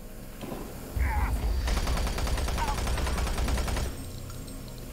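Rapid gunfire from a weapon in Doom 3: BFG Edition rattles in a dense, fast burst lasting a few seconds over a game soundscape, with short tonal effects mixed in before the shooting cuts off.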